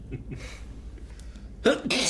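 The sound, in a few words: sneeze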